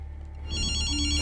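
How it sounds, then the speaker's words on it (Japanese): Phone ringing in Ghostwire: Tokyo, a steady electronic ring that swells up about halfway through and holds loud and close over a low game hum. "あ、電話来たぜ。"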